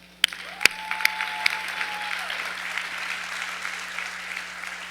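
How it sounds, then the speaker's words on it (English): An audience at a talk bursts into applause, a few sharp, close claps at first that spread into a steady wash of clapping that slowly thins out. "So clap it up"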